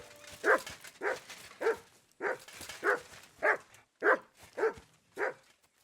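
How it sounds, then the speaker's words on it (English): A companion dog in Kingdom Come: Deliverance II barks repeatedly, about ten sharp, close barks in a steady uneven rhythm, each standing clearly above a quiet backdrop. "What are you barking at, buddy?"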